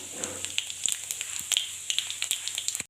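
Whole spices and cardamom paste dropped into hot oil for a dal-chawal dish, giving a steady close crackling sizzle with sharp pops scattered throughout.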